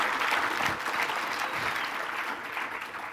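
An indoor audience at a talk claps in a steady wash of applause, fairly loud at first and tapering slightly over a few seconds.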